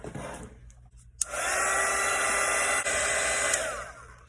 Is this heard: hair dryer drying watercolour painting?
yes